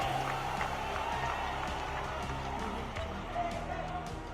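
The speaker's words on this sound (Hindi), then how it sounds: "सभी लोग ऐतिहासिक तालियों से राहुल जी का स्वागत करें।" A political rally crowd claps and applauds to welcome Rahul Gandhi, a dense sustained patter of many hands at moderate distance, with voices mixed in over the clapping.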